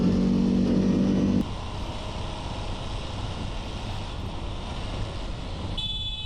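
A motorcycle horn sounds in one steady, loud blast of about a second and a half over constant wind and road noise while riding.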